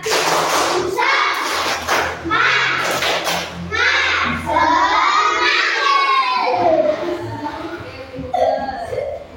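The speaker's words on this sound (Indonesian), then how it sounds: "Yuk, tepuk semangat." A class of children performs a rhythmic clapping chant together in a classroom, their loud group voices rising and falling in short bursts alongside claps and thumps, close and lively throughout.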